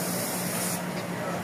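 A loud, continuous hiss of a paint spray gun applying top coat to a Toyota Wego car fills the short moment, dropping slightly in brightness partway through.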